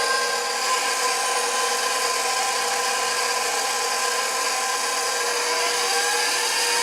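Electric mixer whirring continuously at high speed through oatmeal raisin cookie dough with vanilla, a loud, even motor drone with no pauses.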